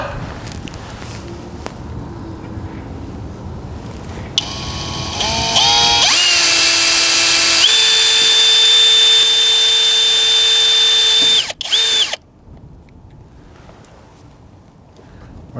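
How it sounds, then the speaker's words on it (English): A power drill whines steadily at high speed for several seconds, drilling a pilot hole into a truck tailgate, then stops abruptly, leaving quieter background noise. "I'm going to drill over my dot."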